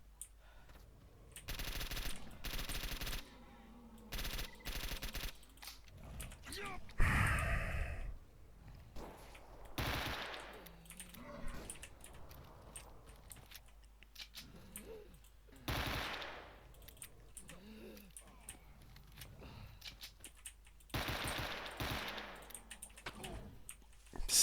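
Gunfire in the video game STALKER Anomaly comes in several separate bursts of shots spread across the stretch, loud and close, with quieter gaps between them and no talking.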